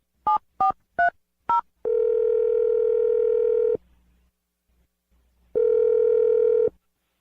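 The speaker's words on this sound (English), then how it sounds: "I'm dialing the phone number right now." A telephone keypad dials a number for a radio show call: four short, crisp touch-tone beeps in quick succession, then a loud steady electronic tone lasting about two seconds, a pause, and the tone again, with no talking.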